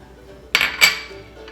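Two quick metallic clinks of a spoon against a pot, in close succession, as ingredients for sucre à la crème, such as brown sugar, butter and vanilla, go into the pot; otherwise quiet.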